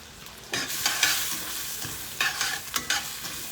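Mushrooms sautéing with shallots and garlic in a pan for Steak Diane, a steady sizzle that swells when ingredients hit the pan, followed by a few sharp stirring scrapes, close and without talk.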